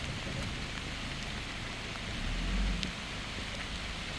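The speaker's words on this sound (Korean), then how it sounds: "비가 상당히 많이 오고 있어요" Heavy monsoon rain pours down outdoors in a steady, dense hiss of drops on surfaces, with a brief low rumble swelling midway, and no voices.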